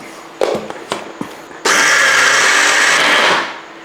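A mixer grinder jar with soaked raw rice gives a few knocks and short clicks, then bursts into a loud, steady high whir for about two seconds before spinning down.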